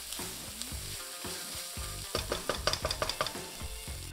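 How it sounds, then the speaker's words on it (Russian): Ground red gochugaru pepper fries in a pan for Korean-style pork ramen, a steady close sizzle broken by a run of quick scraping stirs in the middle, with no voices. "Следующим добавляем красный молотый перец кочукару и регулярно мешая, обжариваем полминуты."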